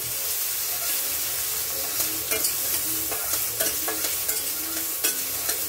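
Garlic and chopped tomatoes fry in oil tempered with black cumin, a constant close sizzle with intermittent clicks and scrapes as the pan is stirred.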